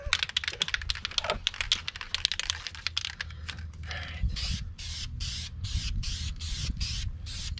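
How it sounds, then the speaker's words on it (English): Rattle can spray paint hissing onto a cabover truck's drop bumper, steady close spraying in the latter half after clicky handling noises at the start. "The rattle can paint."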